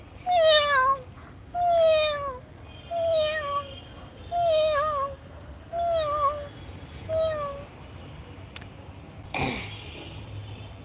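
Cats meowing near a household, six or so drawn-out, whining meows in a steady series, close and fairly loud, followed by a brief sharp noise and then quiet.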